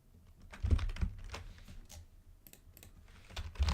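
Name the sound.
typing on a computer keyboard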